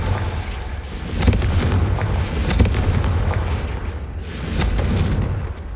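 The Confringo blasting spell in Hogwarts Legacy on PS5 sets off a rolling series of loud, booming explosions, with dense rumbling blasts and crackling bursts overlapping continuously for several seconds and no voices heard.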